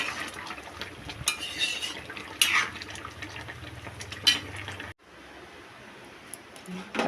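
Thin fish curry is poured from a pot into a bowl, with liquid splashing, a ladle scraping and utensils clinking close by, then a quieter stretch at the end.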